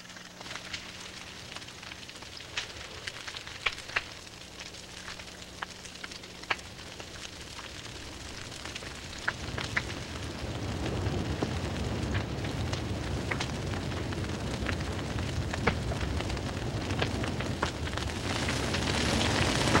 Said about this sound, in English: The fires greedily consume the dried bones of the forest, whipping the air into whirlwinds